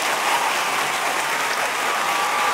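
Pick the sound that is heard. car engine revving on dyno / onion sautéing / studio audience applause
studio audience applause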